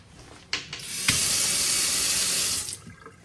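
A kitchen sink tap in a rental apartment in Täby, Sweden opens after a brief clunk and runs in a loud, steady hiss for about a second and a half, then shuts off.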